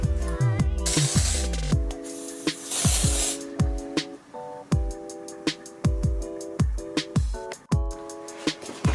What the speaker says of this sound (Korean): 스프레이 뿌린 다음에 빼주시면 됩니다